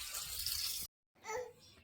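Water gushes from a pipe for village animals to drink, a steady close rushing that cuts off abruptly, then resumes more softly after a short silence.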